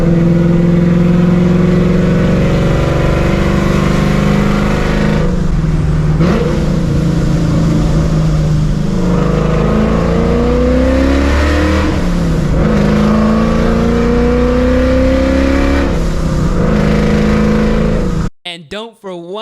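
A supercharged 2004 Mustang GT with a free-flowing 4.6 liter 2-valve engine revs hard and loud, its pitch climbing and dropping through repeated high-RPM pulls under a voiceover, before cutting off abruptly.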